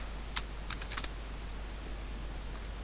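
Keys tapped on a computer keyboard while Java code is entered in NetBeans: a few quick clicks near the start, then a short cluster around one second, over a quiet room hum.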